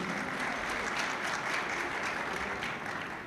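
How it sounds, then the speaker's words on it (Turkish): A crowd applauds at a Çankırı associations federation gathering, steady dense clapping throughout that tapers slightly at the end. "Çorbaları içtik herhalde, alkışlar az geliyor. O yüzden kuvvetli alkışlar gelsin biraz."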